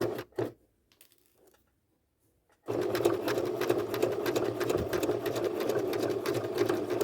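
After a few faint clicks and near silence, a sewing machine starts up close and stitches fabric in a steady, rapid mechanical whirring run that lasts to the end.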